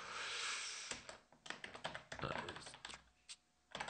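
Quiet clattering keystrokes on a computer keyboard as code is typed, irregular bursts of taps with short pauses between them, close and soft.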